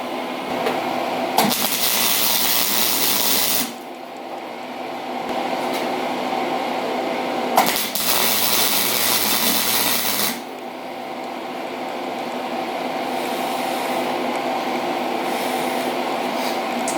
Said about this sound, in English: I'm gonna check those welds real quick